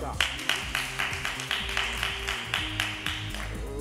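Studio audience on a French TV quiz show clapping in a steady rhythm, about twelve evenly spaced claps, loud and close, with a faint tonal backdrop underneath.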